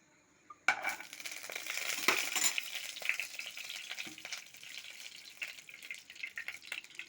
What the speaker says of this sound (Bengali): প্রথমে আমি কড়াইয়ের মধ্যে তেল দিয়ে দিচ্ছি।